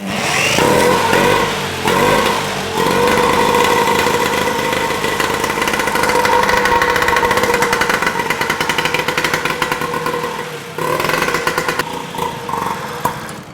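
A classic motorcycle engine catches after the starter and keeps running, a loud, close, steady chugging beat with brief dips near the start and again near the end.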